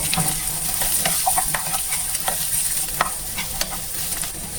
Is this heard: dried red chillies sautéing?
yes